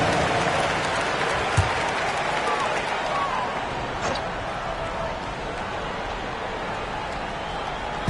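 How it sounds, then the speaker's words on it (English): Crowd applause and cheering fill an arena at a basketball game, a steady wash of noise with an announcer talking over it and a few sharp thuds. "Give yourself a round of applause."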